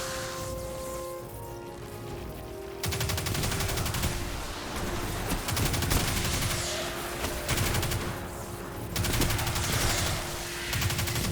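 Rapid bursts of arc weapon fire in Destiny 2, loud and dense, crackling in rattling volleys that swell after the first few seconds and keep up with short pauses, over a steady electronic drone.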